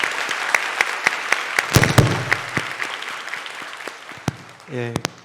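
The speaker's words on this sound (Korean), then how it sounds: "격려한 사랑의 박수를 한번 보내주시면 좋겠습니다." A church congregation at an Onnuri Church Sunday college worship service applauds with steady, moderately loud clapping. A voice briefly breaks through near the end.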